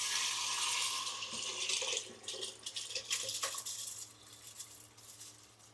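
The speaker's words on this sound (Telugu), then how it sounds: "సో మనం ఇప్పుడు డైరెక్ట్ గా వాటర్ తో పాటు బియ్యం కూడా వేసేద్దాం" Water pours with basmati rice into a cooker, splashing and trickling unevenly with a few sharp grain clatters, close and fairly quiet, tapering off toward the end.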